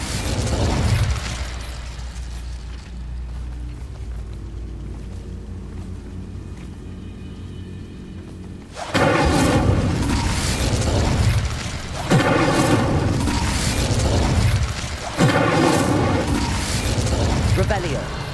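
Incendio fire spell cast in Hogwarts Legacy on PS5, a sudden loud burst that gives way to roaring, crackling fire and booming impacts, following a quieter stretch of low rumble and mechanical ambience.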